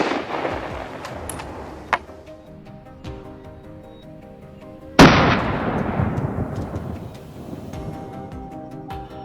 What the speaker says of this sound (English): That first gunshot echoes through the hills, marking the official start of the hunt.